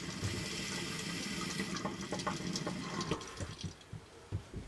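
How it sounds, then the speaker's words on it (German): Water trickling and splashing as it leaks from a Kaya Rocket garden hose, a continuous close wash with small drips and spatters that thins toward the end. "Überall kommt ein bisschen Wasser raus"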